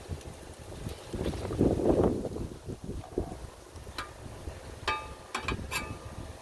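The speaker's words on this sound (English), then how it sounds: "I do not like this wind, Sam I am." Gusty wind buffets outdoors beside a Blackstone griddle, swelling into a loud rush early on and then easing, with a few brief clicks and clatters near the end.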